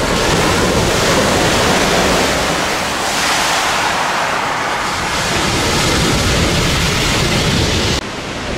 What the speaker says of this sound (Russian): И сейчас вы увидите штормящее море.